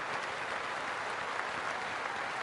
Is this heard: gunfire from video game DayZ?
no